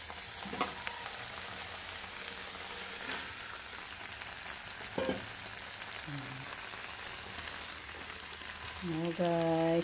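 Shrimp and bottle gourd fry in a pan with a soft, continuous sizzle and occasional stirring clatter, and a brief tonal chime near the end.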